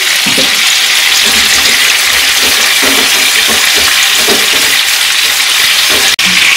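Mixed prawns fry in hot oil with a loud, steady sizzle that runs the whole time and is close to the listener. Faint stirring sounds come through under the sizzle.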